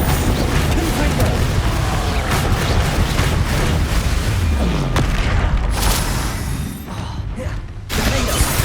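Confringo fire spells blast during combat in Hogwarts Legacy, heavy booming bursts layered over dense, continuous battle noise, loud and close throughout before briefly thinning out near the end.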